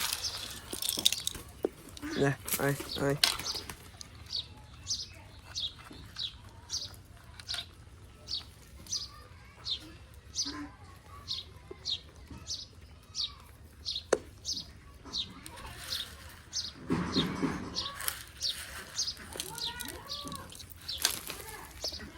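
Pigeons flap and scuffle as they head off to feed, with repeated wingbeats and soft coos and chirps close by, plus occasional short bursts of human voice.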